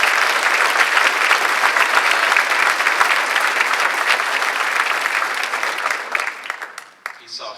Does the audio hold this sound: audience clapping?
yes